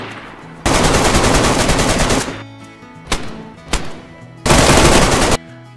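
Automatic gunfire from the DayZ video game, set in the Bitterroot area: a long loud burst of rapid shots, two single sharp cracks, then another sustained burst, close and dominant with no talking.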